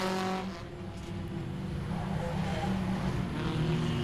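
Race cars in an enduro at Langley Speedway send a fairly faint engine drone across the track, rising and falling as they run, with no one talking.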